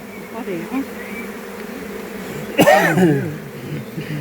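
Honeybees buzz around an open small nucleus hive at a teaching apiary, a steady close hum with one louder burst as a bee passes near.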